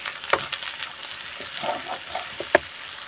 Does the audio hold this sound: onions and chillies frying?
yes